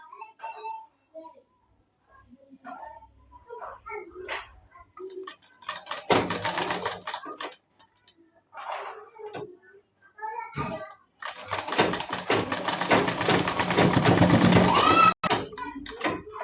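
A sewing machine stitches the shoulders of a frock together in two bursts: a short run, then a longer sustained whir after a pause. Both are close and fairly loud, with light handling noises and someone speaking in the gaps.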